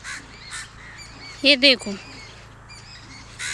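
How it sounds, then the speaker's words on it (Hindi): In a village near Mathura Vrindavan, a bird gives two loud, close calls in quick succession, then a softer third, while someone speaks briefly over quiet outdoor background. "और देखो, ये एक पक्षी है, ये भी आपको यहीं देखने के लिए मिलेगा, मथुरा वृंदावन की तरफ"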